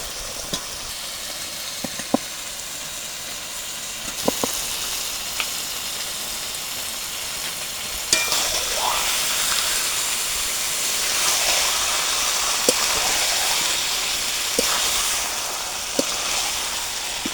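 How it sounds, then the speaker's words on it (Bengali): Chicken pieces frying in plenty of oil with spices, a steady loud sizzle throughout, broken by occasional sharp clicks and louder hissing spurts as the pieces are stirred. "মশলার সঙ্গে মাংসগুলো একবারে ভাজাও হয়ে যাবে"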